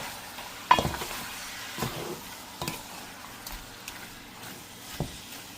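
Chicken and chicken liver fry quietly in a pan, a soft sizzle under scattered spoon scrapes and light clinks against the metal.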